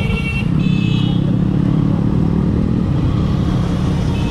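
A convoy of motorcycles, including a Pulsar, rides along a bypass road out of town in Tangail, with a loud, continuous engine drone and rumble close by and a little clatter.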